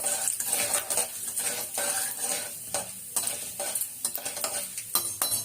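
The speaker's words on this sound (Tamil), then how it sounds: "இப்போ கடலப்பருப்பு ஊற்றும் கொஞ்சம் வதங்கட்டும்." Chana dal fries in a pan with a steady, close sizzle while a spoon stirs it, scraping and clinking against the metal at irregular moments, and no talk.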